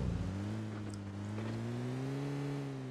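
Vehicle engine in PUBG Mobile, a steady droning hum with slowly shifting pitch as the car drives along, fairly loud and continuous with no talking.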